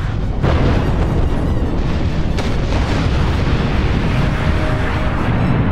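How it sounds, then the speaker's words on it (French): A film's self-destruct system blowing everything up: a loud, sustained roaring blast with deep rumble and crackling debris that stays dense and heavy for several seconds before cutting off abruptly. "Jean-Arnold fait tout péter en utilisant le système d'autodestruction de Feu Carlos."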